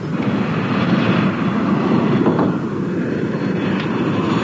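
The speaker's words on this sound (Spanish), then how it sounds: "Aterrizando con las alas centrales a 7 grados." A jet aircraft landing on a runway, delivering a dense continuous roar of engine noise and rumble that stays loud and steady throughout, with no pauses.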